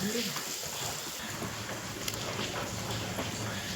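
Onions frying in a pan give a steady, dense sizzle, and stirring adds scraping and rustling strokes on top. The sound is close and continuous, village-style home cooking, with no talking.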